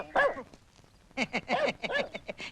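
A dog barks close by: one short bark, a pause, then a quick run of sharp, repeated barks.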